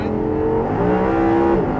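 An Audi R8 engine pulls hard out of a turn on a driving course, a loud, close, steady rising drone of acceleration with no voices over it.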